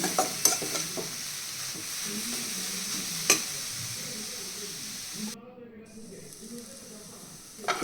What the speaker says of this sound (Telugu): నేను సిమ్లో పెట్టుకుని ఫ్రై చేసుకుంటున్నాను